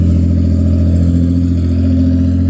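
An 1800 hp Nissan GT-R engine roars loudly and steadily at close range, holding a deep, continuous rev for the whole stretch with no break.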